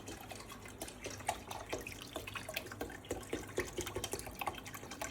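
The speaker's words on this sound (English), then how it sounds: "I'm pouring my broth in here because I am going to boil them in chicken broth" Chicken broth pours into a pan of chicken, a quiet, steady liquid trickle with small splashes and drips, close and alone.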